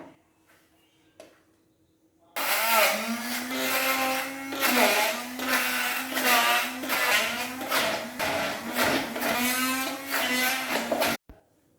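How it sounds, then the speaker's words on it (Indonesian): An electric blender grinds spice paste for opor, starting abruptly after a quiet moment with a few faint knocks and running as a loud, steady motor whine with rhythmic churning pulses before cutting off sharply. "sekarang kita haluskan bumbu opornya ya"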